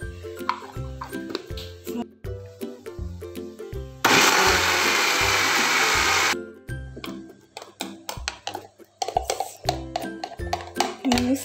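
A blender grinds spice paste for Indonesian pepes ikan in one loud, steady burst of a couple of seconds, with kitchen clatter and tapping before and after.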